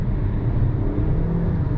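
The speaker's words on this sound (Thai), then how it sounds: "เวลากดคันเร่งมันจะมีเสียงอรรถรสที่เป็นเสียงของ เครื่องยนต์ที่เป็นแบบสไตล์ Honda" A 2021 Honda HR-V RS engine revs as the accelerator is pressed, a short, loud, sustained engine roar heard from close by with no talking.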